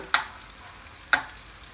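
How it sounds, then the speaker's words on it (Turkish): Meatballs frying in a pan of hot oil for Cretan-style sour meatballs, giving a faint steady sizzle with two sharp clinks. "Tamamını köftelerin yağın içine atacağım."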